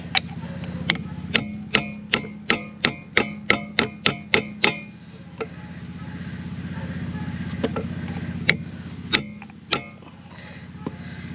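Hammer blows drive a bushing out of a New Holland TN70 tractor lift arm: about a dozen sharp metallic strikes in quick rhythm, then a few sparser hits over a steady background hum.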